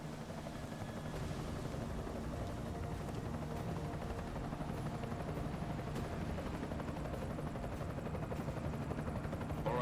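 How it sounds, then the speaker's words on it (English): Enemy helicopter in the video game Deus Ex: Mankind Divided, a steady, dense rotor drone holding at even loudness throughout, fairly quiet and without speech. "Enemy helo sighted."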